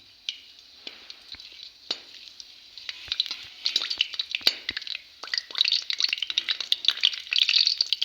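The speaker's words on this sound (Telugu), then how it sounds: "సరిపడా గరం మసాలా లైట్గా వేయించుకుందాం" Garam masala frying lightly in oil in a pan for pepper chicken, a faint crackle that grows into busier popping and sizzling with sharp spits.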